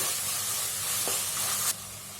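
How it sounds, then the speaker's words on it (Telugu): Yogurt stirred in a hot pan over high flame, a close, steady sizzle and hiss with a faint scrape, dropping off abruptly near the end. "ఐ ఫ్లేమ్లోనే మనము ఈ పెరుగు వేసినప్పుడు బాగా కలుపుకుందాము"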